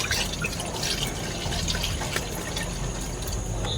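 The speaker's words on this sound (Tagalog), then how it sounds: "Lagyan natin ng gata." Coconut milk pouring into a cooking pot for ginataang malunggay, a steady liquid trickle and splash heard close and alone for a few seconds.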